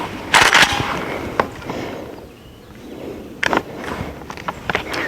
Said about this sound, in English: This will be a little bit different now that we're just shooting 3 pellets